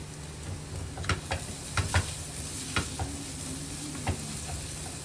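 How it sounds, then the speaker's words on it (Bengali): Spice paste sautéing in hot oil beside potatoes and chicken, a continuous close sizzle broken by several quick spatula scrapes and taps against the pan. "আর এদিকে আমি মশলাটা কষবো"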